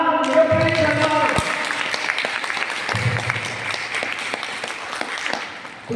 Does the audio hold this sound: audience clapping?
yes